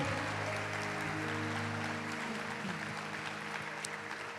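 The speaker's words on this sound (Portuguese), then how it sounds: "Vamos aplaudir ao Senhor" A church congregation at an encouragement gathering in Araraquara claps continuously in a soft, even wash, with sustained musical tones ringing beneath the applause.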